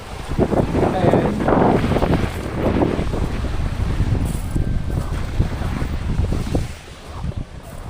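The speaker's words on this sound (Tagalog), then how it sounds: "Malakas yung hangin dito." Strong, gusty beach wind on Capul Island, Philippines, buffeting the microphone in heavy rumbling bursts, with surf washing faintly underneath.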